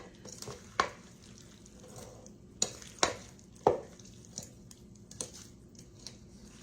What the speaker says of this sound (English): Just gently go down to the bottom and fold it over till everything is coated